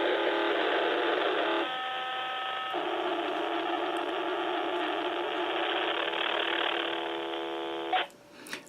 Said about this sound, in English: What you're hearing is a digital packet signal produced by their equipment.